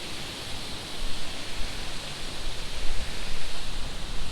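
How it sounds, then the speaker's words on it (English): Waterfall heard from nearby footpath by a footbridge, steady broadband rushing hiss of falling water, continuous and moderately loud with slight surges. "There's the falls."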